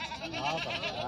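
A young sheep or goat at a livestock market gives a single short, wavering bleat, fairly faint against the quiet background murmur of the market.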